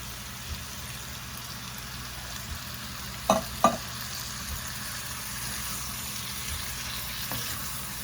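A pot of food with fire roasted diced tomatoes is stirred, a soft continuous simmering hiss with a couple of brief spoon knocks against the pot, fairly quiet and with no talk.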